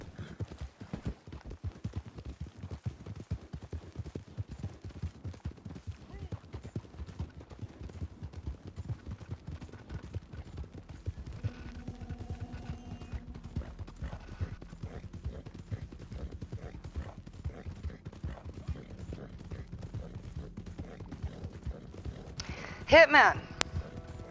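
Steady, rhythmic horse hoof clip-clops from a PS4 video game carry through the whole stretch, close and prominent, with occasional whinnies and bursts of game effects while a player talks over them.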